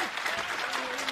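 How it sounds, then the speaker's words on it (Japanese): Audience applause fills the venue at a BreakingDown fighting event after a knockdown, a steady, dense burst of clapping from the crowd lasting about a second. "拍手が沸き起こる会場"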